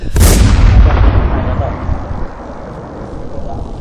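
Gunfire in the video game SurvivalZ: a single loud, close blast that cuts in sharply, then a long rumbling tail fading into steady background noise.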